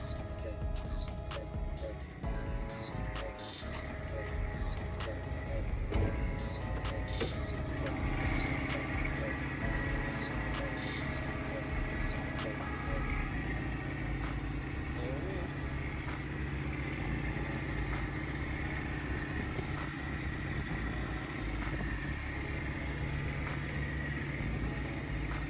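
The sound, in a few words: Nissan D21 Z24 engine running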